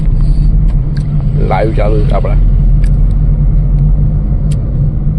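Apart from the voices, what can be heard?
heavy road traffic on a bridge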